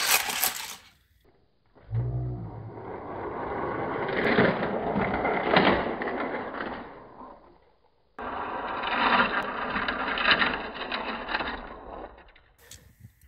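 Hot Wheels Teenage Mutant Ninja Turtles toy cars race down a four-lane plastic track in two runs, each a rolling, clattering whir lasting several seconds before stopping abruptly, heard up close with no talking.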